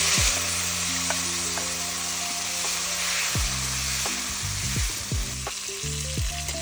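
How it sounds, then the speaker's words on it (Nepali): Cashews and chopped tomatoes fry steadily in a hot pan, a continuous close sizzle punctuated by scraping stirs and clinks from a utensil, with no voices. "यसलाई एकछिन फ्राई गर्ने"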